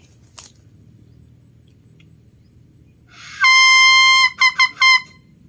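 A small homemade coconut-leaf horn blows a bright, buzzy tone, one sustained blast about a second long followed by three quick short toots, close and loud after near silence.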